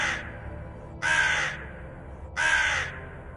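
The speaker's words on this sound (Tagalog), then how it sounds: "agad na tumunog ang isang uwak" A crow caws loudly and close by, three harsh, rasping calls spaced about a second apart over a faint background hum.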